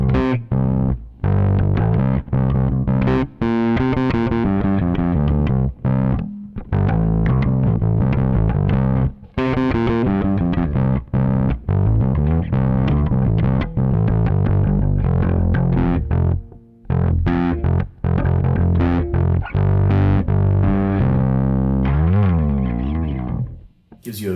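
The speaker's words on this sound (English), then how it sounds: "Gives you a very nice distortion." A P bass played through an Aguilar Tone Hammer preamp with the gain and mids turned up gives a loud distorted tone, riffing continuously with brief pauses between phrases.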